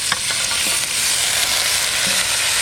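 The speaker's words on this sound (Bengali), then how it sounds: "মশলা কষানো হয়ে গেছে এখন মাংস দিয়ে দেবো" Desi chicken pieces hit hot fried masala in a pan, giving a loud, steady hiss and sizzle with light stirring scrapes throughout.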